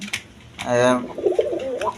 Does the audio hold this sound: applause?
no